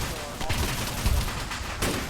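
Gunfire in the video game TSB Vietnam, aimed at machine gun towers: several loud, close shots in separate bursts over a constant rumbling background.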